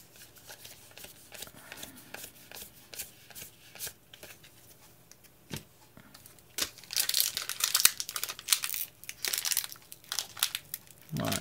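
Pokemon TCG Team Up booster packs being torn open and cards shuffled, close crinkling foil and rapid card flicks that grow louder and busier toward the end.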